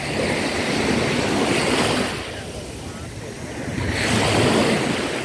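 Ocean waves at Repulse Bay beach in Hong Kong, a broad continuous surf roar that swells, eases briefly, then builds again, with wind buffeting the microphone.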